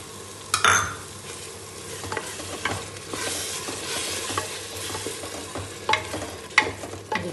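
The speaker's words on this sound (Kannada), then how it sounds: "ಇವಾಗ ಕೊತ್ತಂಬರಿ ಪುದೀನ ಪೇಸ್ಟ್ ಮಾಡ್ಕೊಂಡು ಅದು ಹಾಕ್ಕೊತಾ ಇದ್ದೀನಿ" Coriander and mint paste sizzles steadily in a hot pan for mushroom biryani, with stirring scrapes and occasional utensil clinks cutting through the continuous frying hiss.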